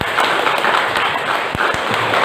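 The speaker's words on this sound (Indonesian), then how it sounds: "Ya, kita tepuk tangan lah sedikit dulu." Audience clapping in a lecture hall after an academic talk on disaster policy in Central Sulawesi: a short, uneven burst of claps from a small group, fairly close.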